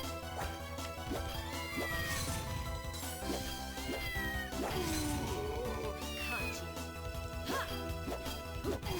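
Cats meow repeatedly in the game Castlevania: Order of Ecclesia, short rising and falling cries scattered over dense, loud in-game music and effects, with no clear speech.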